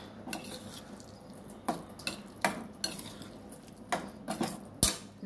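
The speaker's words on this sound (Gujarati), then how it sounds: "એને કન્ટિન્યુ હલાવતા તો રહેવી જ પડશે, ને તો દાળ છે એટલે ચોંટવા લાગશે." Urad dal with spices being stirred in a pan for Kathiyawadi dhaba-style dal, a soft simmering hiss under repeated scraping knocks of a spoon against the pan, close and moderately quiet.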